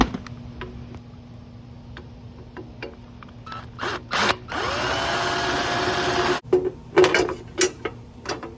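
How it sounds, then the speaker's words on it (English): A power drill on a 2004 Harley-Davidson Softail Deuce reams out a hole with a 3/8 bit, giving one loud, steady whine of about a second and a half. Short clicks and taps come before and after it. "we're gonna ream it out with a 3/8 bit, just a little bit bigger"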